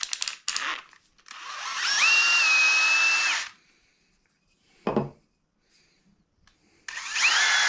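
Power drill with a 7/64 bit boring into hard osage orange wood, a loud sustained whine of about a second and a half, then a short burst, then another run starting at the end, close by with no talk.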